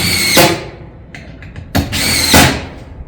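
Power tool fastening roof battens during an eave and rake install of Pine Crest shake panels: two loud, close bursts of driving, each a short whir ending sharply, separated by a quiet gap with light handling clicks.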